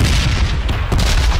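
A grenade blast in a warehouse area of a shooter video game, rendered as a loud, dense booming roar that fills the whole clip with no clear pause.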